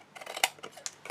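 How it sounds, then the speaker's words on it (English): Scissors snipping small wedges off paper for a ring gift box, several quick close cuts in an uneven rhythm, one sharper snip standing out, no talk. "I'm just going to come in and just snip away"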